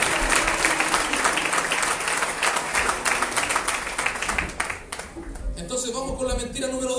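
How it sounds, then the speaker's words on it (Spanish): An audience claps loudly for the actors, steady dense applause from a crowd that continues for several seconds, dipping briefly near the end before picking back up. "le damos un aplauso a los actores, por favor"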